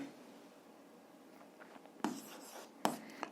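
Pen writing on paper during a Grade 7 physics exercise, heard as a quiet, brief scratching with two sharper strokes near the end over a low room hum.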